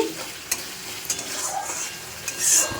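Spices frying in a pan for a Bengali fish curry, a steady close sizzle with a few sharp stirring scrapes and a brighter burst of spitting near the end, no voices.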